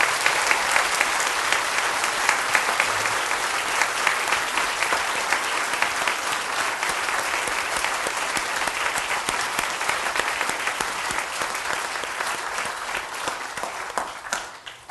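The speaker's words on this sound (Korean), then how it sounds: "모든 대원들에게 이 시간 다시 한번 뜨거운 박수로 격려해 주십시오" A church congregation at a 2014 Easter cantata gives sustained, warm applause for the choir, conductor and choir members, a loud, dense, even clapping that carries on for about fifteen seconds before fading slightly.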